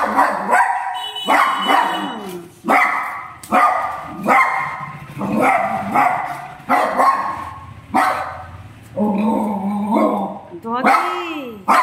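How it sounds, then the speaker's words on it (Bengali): A dog barks on a street in a series of sharp, repeated barks, with people talking close by and over much of it. "রাস্তায় ডগি এসেছে?"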